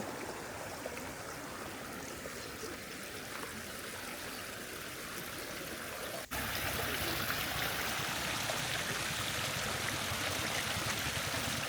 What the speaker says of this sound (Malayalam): നല്ല വെള്ളത്തിൻ്റെ നല്ല ഒഴുക്ക്